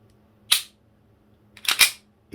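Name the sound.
Army Custom Staccato Hi-Capa pistol slide snapping forward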